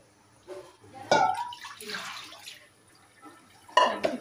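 Water splashes in short, quiet bursts as raw fish for a Godavari-style fish curry is rinsed by hand in a bowl, with a few drips between the splashes.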